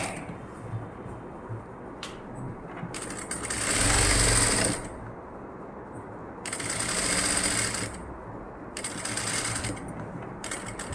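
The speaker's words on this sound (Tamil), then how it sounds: "இப்படியே இந்த ஓரத்துலேயே இது மேலே நான் தையல் போட்டுட்டு வரேன்" A sewing machine stitches along the edge of a nighty in three separate bursts of steady, fast mechanical whirring, each lasting one to two seconds, with quieter pauses between them.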